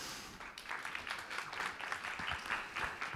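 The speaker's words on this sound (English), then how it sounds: "A round of applause to her." A round of applause for a presenter at a pitching event, with a small audience's dense, steady clapping holding at moderate, fairly even loudness for the whole stretch, with no voices over it.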